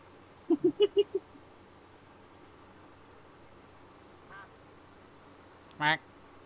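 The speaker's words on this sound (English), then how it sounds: "Quack." A duck in the Minecraft video game quacks in a quick run of five short quacks, then once more a few seconds later, against a quiet background hum.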